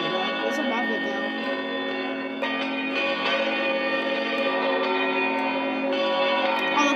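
A tower church bell in a Roblox bell-ringing game strikes repeatedly in an echoing space, its ringing tones sustaining and overlapping at a steady, moderately loud level.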